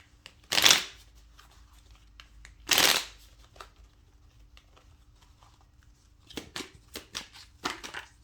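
Tarot cards are shuffled in two sharp riffling bursts, followed later by a run of softer card taps and slides, close and clear against a quiet room.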